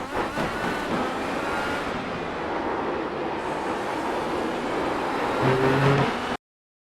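IR-18 open-wheel race car at Sebring in iRacing, a steady loud engine roar and road rush held at a constant pitch for several seconds, with a brief tonal shift near the end.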